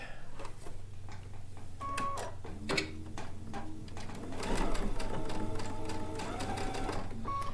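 A sewing machine stitches a quilt top with an automatic tie-off stitch, running in a steady continuous whir with brief reverse stitches at the start, close and fairly quiet, with no talking.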